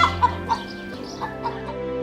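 Cartoon chickens kept beside a village house cluck in a rhythmic series of short, close, clear clucks over a soft musical background.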